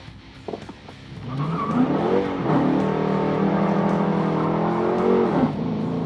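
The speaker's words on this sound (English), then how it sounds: "We're going to do a launch here." A Dodge Challenger R/T with the 5.7L Hemi V8 makes a launch-control start: the engine holds at steady revs, then roars loudly and climbs as the car pulls away, with tyre noise mixed in.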